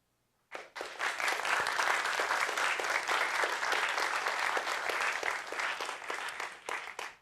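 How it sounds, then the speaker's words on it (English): Audience applause at AltConf, a developer conference session on extending Xcode, with a dense, sustained roar of many hands clapping that begins abruptly and stays loud for about seven seconds before thinning slightly at the end. "big applause for AltConf and the volunteers, please"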